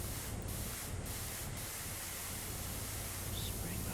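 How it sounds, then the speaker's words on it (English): In the video game PowerWash Simulator, a pressure washer sprays in a continuous even rush of water, steady and moderately loud, with a few faint brief taps over it and no speech. "Spraying back there, lovely."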